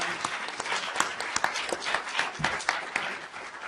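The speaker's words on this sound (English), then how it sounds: "let's give them a round of applause." Audience applause after a moot court final round, a steady patter of many hands clapping at close-to-mid distance, with a few sharper individual claps standing out over about four seconds.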